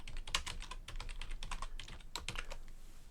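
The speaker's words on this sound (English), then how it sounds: "So, let's type something in here." Fingers type rapidly on a computer keyboard at a workbench for ESP32 serial communication, a close, crisp run of clicking keystrokes in an uneven rhythm with no talk.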